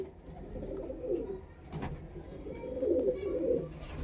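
Pigeon cooing close by, a black female Punjabi pigeon with black beak and feet and white eyes, in soft low repeated coos that swell toward the end, with no one talking.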